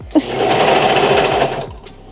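A Vevor industrial sewing machine runs in one steady, loud burst of stitching for just under two seconds, starting after a brief knock and cutting off near the end.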